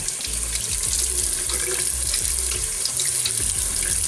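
Water streams steadily from a tap over a Philips S1332 Series 1000 cordless shaver and trimmer being rinsed, a constant close splashing hiss with the trimmer's low buzz underneath.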